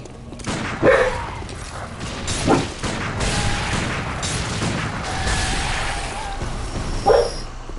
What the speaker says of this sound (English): I do not know what my dog is barking at or why.